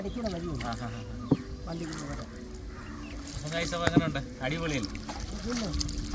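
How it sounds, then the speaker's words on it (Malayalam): Water laps and trickles around a small teak country boat as it moves in Kuttanad backwaters, with people talking over it and a few knocks against the hull. "നമ്മൾ ഇക്കരയെന്ന് അക്കരയിലേക്ക് നമ്മൾ വള്ളത്തെ നമ്മളിങ്ങനെ പോവാണ്"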